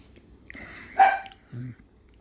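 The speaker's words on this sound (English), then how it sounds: "my dog's trying to bark at noises" A house dog gives a short bark followed by a lower muffled woof, two quick sounds close by in an otherwise quiet indoor room.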